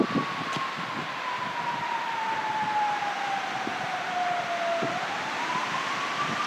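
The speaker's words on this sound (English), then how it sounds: "A lot of sirens today." A single siren wails steadily in the distance, its tone sliding slowly downward then rising again, over a constant rush of outdoor wind.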